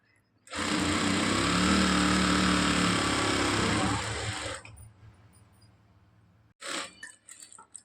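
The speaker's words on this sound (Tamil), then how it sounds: "ஒரு அரை இன்ச்சு ஒரு சீமுக்கு தள்ளி தையல் போட்டுக்கோங்க. ரெண்டுலேயும் ஒரே அளவா." A sewing machine runs steadily while stitching a long blouse seam, a loud continuous mechanical whir lasting about four seconds before stopping, followed by brief quieter handling sounds.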